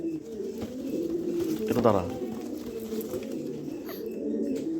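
Club racing pigeons coo in low, overlapping throaty rolls, close and steady throughout, while a person speaks briefly over them.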